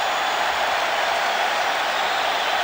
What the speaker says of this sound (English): Miller missing the free throw, and the crowd delirious